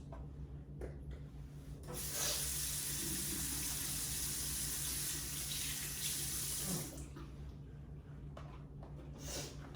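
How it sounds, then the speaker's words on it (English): A tap runs into a sink during handwashing, a steady close rush of water for about five seconds, with quieter splashes and trickles before and after. "let me go ahead and wash my hands"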